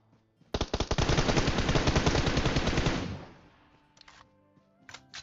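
A long burst of rapid automatic gunfire in PUBG Mobile rattles loudly for a couple of seconds, then fades, followed by a few quieter clicks and taps.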